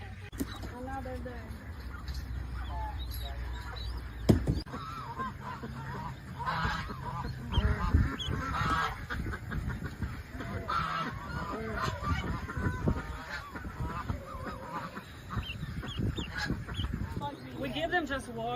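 Ducklings and ducks rescued from a balut farm call and honk nearby in a busy chorus, while people talk over them throughout.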